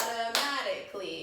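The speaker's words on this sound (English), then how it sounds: "So clap with me." Hands clap a rhythm pattern during a second-grade movement lesson, a few sharp claps standing out against a quiet room with no voices.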